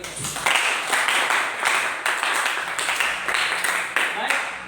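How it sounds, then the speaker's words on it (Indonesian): A group claps after a presentation, in bursts of clapping that rise and fall in waves with voices talking over them throughout. "tepuk tangan untuk mereka."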